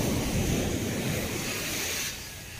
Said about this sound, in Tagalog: Laki ng alon guys.